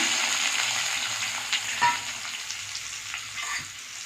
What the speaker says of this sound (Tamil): எண்ணெய் ஊற்றி கடுகு போட்டுக்கிறேன் அடுத்தது வந்து வெங்காயம் போட்டுக்கலாம்